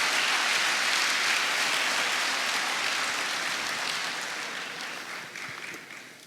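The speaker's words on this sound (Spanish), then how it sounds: "Otro aplauso, Rey bendito." A church congregation applauds in warm, continuous clapping. It starts full and loud, then slowly thins and fades over several seconds.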